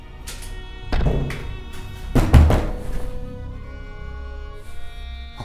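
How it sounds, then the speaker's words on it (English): Dull, heavy thuds of someone banging on the walls in the horror game Night Book, a few loud knocks spaced apart with a cluster in the middle, set against a faint droning background. "you're banging on the walls"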